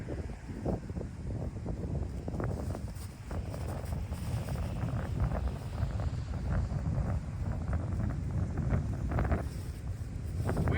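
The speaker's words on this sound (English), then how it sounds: "A little bit of I'd say an 8-mile-an-hour wind from that direction today." Steady outdoor wind of about 8 mph at a disc golf course, buffeting the microphone with constant low rumble and gusty rises throughout, with no talking.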